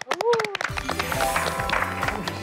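A Korean talk-show studio audience breaks into applause, a dense burst of clapping rising right after a short spoken introduction and continuing steadily and loudly.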